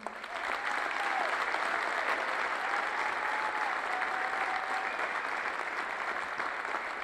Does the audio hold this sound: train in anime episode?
no